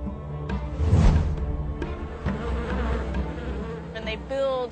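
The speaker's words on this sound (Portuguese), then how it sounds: "Então saíram as abelhas do favo que a rodearam." Dense buzzing of a bee swarm pouring out of a honeycomb, a steady loud drone with swelling and wavering tones throughout, close and continuous.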